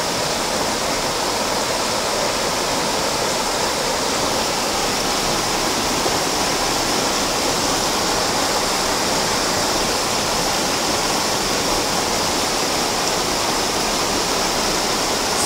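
Water rushing down from the jungle near a garden village in Malaysia, a loud, steady broadband roar like a waterfall or stream, continuous throughout and close by, with no voices.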